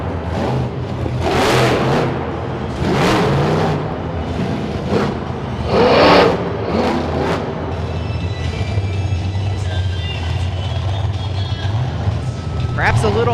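Monster truck Tailgator, driven by Doug Nolte, revs its engine loudly in an arena at a Kansas City, Missouri event, with repeated surging throttle bursts over steady crowd noise and an announcer talking throughout.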